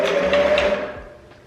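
A sewing machine with a broken needle is switched on, giving a brief close whirring hum that runs for about a second and then winds down and fades.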